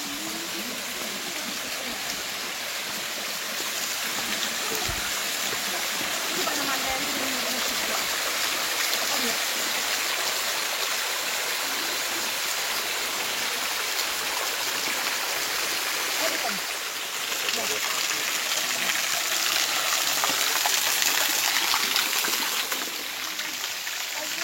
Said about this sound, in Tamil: ஃபஸ்ட்டு குட்டி வாட்டர் ஃபால் கிட்டே நெருங்கியாச்சு.